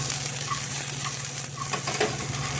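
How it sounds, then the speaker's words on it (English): Vegetables sizzling and crisping in a pan for an omelet, a steady, close hiss of frying with occasional soft stirring scrapes, with no voices. "they should sizzle a little bit"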